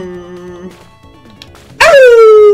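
A sharp synthesized dog bark and yelp from the Bonanza Bros. video game on Sega Genesis bursts out loudly near the end, following quieter game tones and effects.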